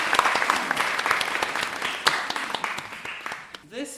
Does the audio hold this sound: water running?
no